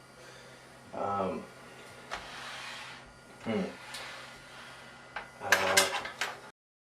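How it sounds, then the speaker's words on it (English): Plastic front bezel of a Packard Bell Legend computer being pried off, with a few short clicks and snaps of tabs releasing, and a sharper cluster of rattling plastic near the end, close and fairly quiet. "I had to push some plastic tabs to get this piece off from the front"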